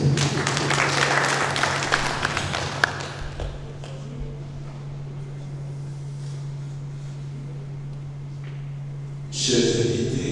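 Audience applause at a book event for the Msem Todjom festival in Yaoundé starts strong, fades into scattered claps and a low hum, then a brief burst returns at the end.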